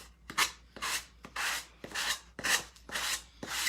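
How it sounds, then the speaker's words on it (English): Repeated sanding strokes over Mod Podged scrapbook paper on a pumpkin craft, a close, steady rasping rub in about seven even back-and-forth passes with no talking. "So when you're sanding off scrapbook paper or anything that you Mod Podge, you sand down."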